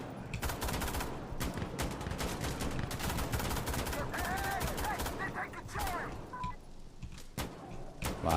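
Rapid gunfire in the video game Insurgency: Sandstorm, shots crackling in dense bursts throughout amid other game noise, with brief voice chatter.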